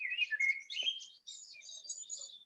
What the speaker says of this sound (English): Birds a bit too noisy?